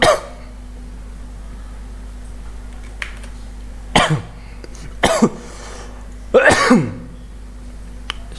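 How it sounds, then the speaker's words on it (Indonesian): A man coughs indoors at his computer, with a brief cough near the start and three more harsh bursts spaced a second or so apart over a low electrical hum. "Sorry ya, batuk."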